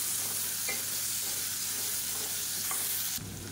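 Boiled potatoes stir-fried in a pan for a spicy varuval, a steady close sizzle with scraping stirs and a couple of clinks, the frying cutting off abruptly near the end; no voices.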